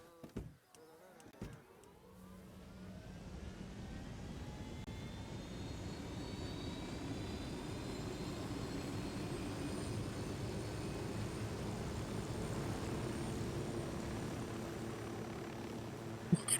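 A helicopter in a video game flies steadily with a continuous turbine whine and rotor drone, starting after a brief clatter and holding at an even, moderately loud level for most of the stretch.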